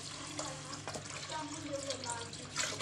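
Water is poured into a pot of cooking daal (lentils), a steady splashing pour that runs for a few seconds at moderate level, with faint voices in the background.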